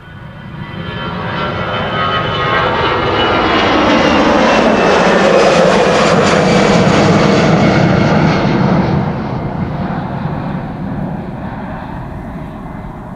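A KLM airliner, Orange Pride, taxis along the center runway at Amsterdam Schiphol, its jet engines a loud steady roar that swells past mid-clip and then eases slightly, no voices.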